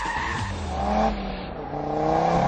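An Audi TT RS thrown sideways through a corner with handbrake and power, tyres squealing loudly over a strained, revving engine for the whole stretch.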